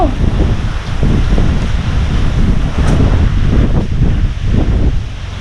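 Strong, dry wind blows steadily outdoors, roaring loudly and continuously with gusty surges throughout, with no voices.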